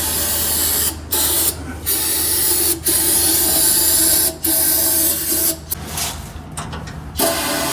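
Brake fluid being sprayed through a sandblasted car axle housing, loud close hissing bursts of spray broken by short gaps, with rubbing and scraping between them, no voices.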